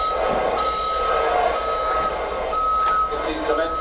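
Cement truck reversing alarm beeping steadily near a city fire escape, a repeated tone over truck engine rumble and street noise, with people talking.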